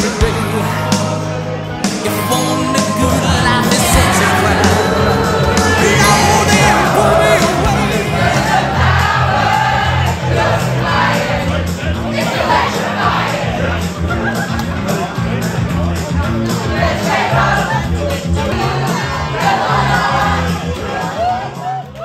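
A cruise ship crowd at karaoke night cheers and whoops loudly, a continuous roar of applause, shouts and chatter with music underneath, sustained for over twenty seconds.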